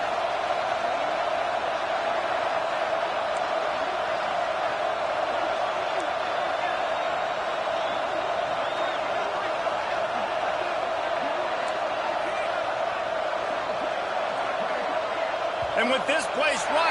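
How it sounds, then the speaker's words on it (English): A roaring crowd fills a college football video game stadium with a constant, loud, dense wash of cheering noise. Near the end a few sharper thumps and claps rise above it. "with this place rocking, the crowd forces a false start"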